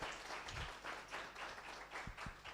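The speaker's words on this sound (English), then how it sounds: "Let us please give a round of applause for teacher." Audience applause after a speaker at a research week session, a steady wash of many hands clapping throughout, with a few closer sharp claps standing out near the end.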